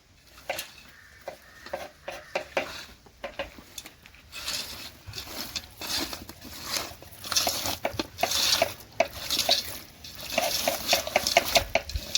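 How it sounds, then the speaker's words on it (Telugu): Quail meat being mixed by hand with curd, ginger-garlic paste and salt in a bowl, making continuous wet squishing and stirring with irregular taps against the vessel, close and fairly loud, growing busier as it goes on. "కొద్దిగా సాల్ట్ వేసుకొని ఇదంతా మిక్స్ చేసుకోవాలి బాగా"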